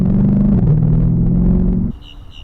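A 2016 Dodge Charger R/T with a 5.7 V8 Hemi idles with a loud, deep, close rumble and a slight dip in pitch, then cuts out abruptly into quiet.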